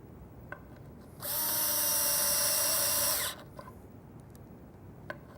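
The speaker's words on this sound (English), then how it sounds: "driving those screws, if you don't clamp it, it's going to walk on you." A power drill drives screws into a wooden cabinet face frame, one loud, steady whirring burst lasting about two seconds, close by, with faint workshop knocks before and after.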